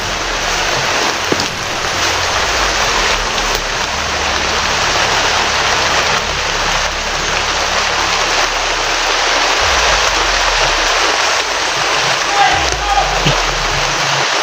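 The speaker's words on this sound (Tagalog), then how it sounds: "Lakas ng ulan." Loud, continuous downpour hisses and patters close by, with a few brief knocks and low rumbles underneath and no talking.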